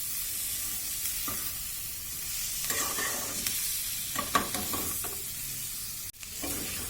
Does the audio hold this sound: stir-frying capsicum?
yes